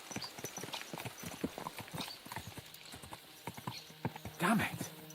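Horses' hooves clip-clop at a brisk, steady pace in Kingdom Come Deliverance 2, close and rhythmic, with a short snort or whinny near the end. A voice talks over the hoofbeats.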